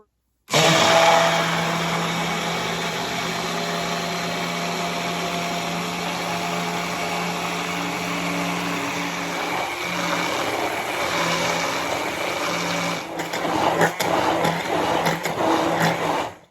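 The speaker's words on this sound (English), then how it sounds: "we're going to start the immersion blender, and we're going to hold it there" A steady high-pitched whir of an immersion blender running continuously up close while making mayonnaise, with a slight change in pitch near the end.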